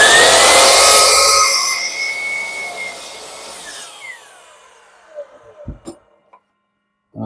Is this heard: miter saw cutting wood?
yes